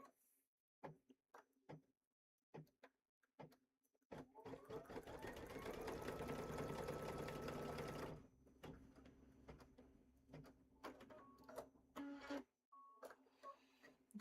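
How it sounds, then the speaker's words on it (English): A sewing machine stitches out a pillow wrap in one steady, fairly quiet run of rapid stitching lasting about four seconds, bracketed by sparse clicks and taps. "we're going to put our foot down and sew"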